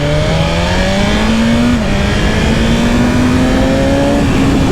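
A 2020 BMW S1000RR motorcycle on a ride after its 600-mile service, engine pulling hard at wide open throttle, steady loud rising whine with quick smooth gear shifts and no talk.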